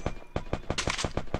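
Rapid bursts of video-game gunfire, about eight or nine sharp loud shots in quick irregular succession, close and dominant, with no voices over them.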